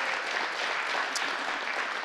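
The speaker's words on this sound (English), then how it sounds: "Give yourselves a round of applause today for doing that." Audience applause at a church institute session: steady, dense clapping from a crowd, even and continuous, with no talking over it.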